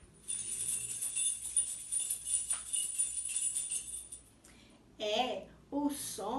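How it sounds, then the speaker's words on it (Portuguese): A bunch of keys is shaken, giving a steady, bright metallic jingle for about four seconds; a voice then speaks briefly. "É o som do molho de chaves"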